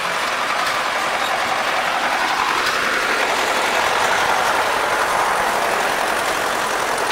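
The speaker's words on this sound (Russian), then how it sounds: "Вот такой наш трактор." A Fortschritt K-454 tractor engine runs steadily while baling rain-soaked straw during haymaking, giving a loud, continuous broadband drone that holds level throughout with no speech.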